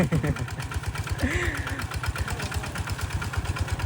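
A new farm tractor plowing a rice field, its engine chugging in an even, rapid pulse close by and holding steady throughout, with a faint voice briefly rising over it.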